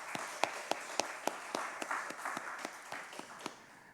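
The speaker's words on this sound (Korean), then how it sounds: "우리 하나님 앞에 영광의 박수 올려드립시다." A church congregation at a Sunday worship service claps in a quick, fairly even rhythm for a few seconds, quiet and somewhat distant, tapering off at the end.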